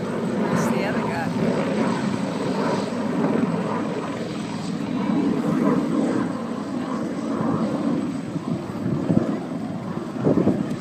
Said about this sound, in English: demonstrating the roll rate of the L-29.